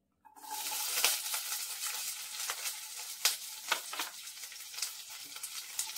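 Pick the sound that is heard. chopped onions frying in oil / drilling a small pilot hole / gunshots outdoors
chopped onions frying in oil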